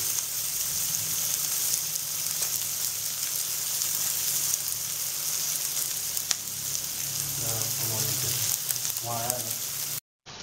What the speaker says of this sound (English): after frying these onion tomatoes for like 2 minutes